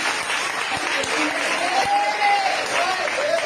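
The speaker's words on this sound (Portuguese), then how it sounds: "Quantos podem me dar uma salva de palmas?" Steady applause from a church congregation fills the space, with scattered louder claps over a continuous crowd wash.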